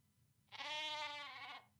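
A sheep in the video game The Book of Unwritten Tales 2 gives one drawn-out wavering bleat, close and loud, lasting about a second over a faint low background hum.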